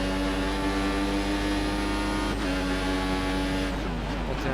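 A Formula One car in the F1 2014 video game, on the Bahrain circuit, holds a loud high-revving engine whine with rear wheel spin. The pitch stays sustained, dips sharply once, then drops away near the end.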